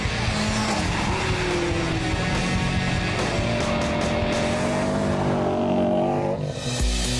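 A loud car engine accelerates hard and close, with tires squealing and the engine note rising steadily, no talking.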